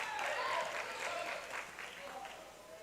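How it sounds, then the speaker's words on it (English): Crowd at a women's college basketball game between ELAC Huskies and Mt. SAC applauding a made free throw, a soft, fairly distant patter of clapping that swells briefly and then tapers off. "And she gets a big round of support from the crowd."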